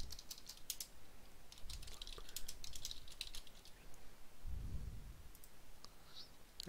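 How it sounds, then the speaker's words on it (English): Computer keyboard typing in Word, quick soft clicking keystrokes in uneven bursts under a low room hiss. "I'm going to add a comma and then type in the title of the book"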